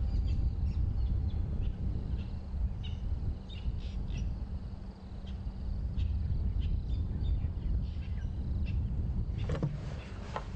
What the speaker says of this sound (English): now you can hear there's some other birds alarm calling. It sounds like possibly magpie shrikes